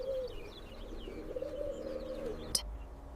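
Birds perched on a horse and picking ticks from its hide give soft, low cooing calls over a quiet background, ending in two sharp brief knocks.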